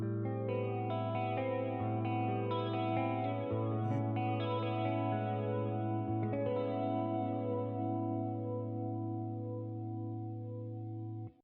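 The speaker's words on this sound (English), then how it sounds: "modulation effects that I have selected, this is how it sounds like" Electric guitar through a Valeton GP200 multi-effects unit on a Leslie rotary-speaker modulation preset, sustained chords swirling with chorus-like warble, steady and loud throughout and alone with no voices.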